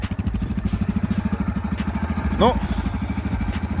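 Yamaha Grizzly 700 ATV engine idling close by with a steady pulsing, slightly clattery rhythm, a brief voice heard over it.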